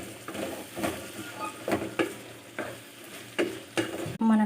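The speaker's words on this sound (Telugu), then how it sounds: "బీరకాయలు కొంచెం మగ్గే వరకు మంచిగా కలుపుకొని బీరకాయని మగ్గనిద్దాం" Ridge gourd curry stirred in a hot pan: regular scraping strokes roughly every half second over a soft sizzle, close and steady, ending with a brief clatter.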